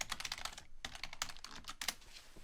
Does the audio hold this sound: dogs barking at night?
no